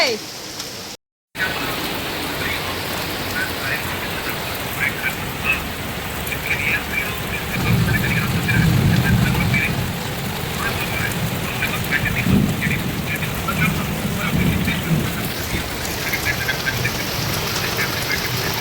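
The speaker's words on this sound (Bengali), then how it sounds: "বৃষ্টি পড়ছে।" Steady rain pours down during a storm with thunder, a dense close hiss throughout that swells in the middle, with faint voices underneath.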